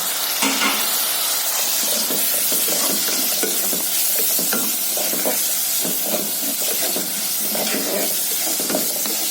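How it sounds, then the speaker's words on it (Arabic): Chicken seasoned with salt, pepper and cumin sizzles loudly in a hot pan, a dense constant frying hiss with scraping stirs throughout, close and steady. "تتشوح شوية وارجع لكم"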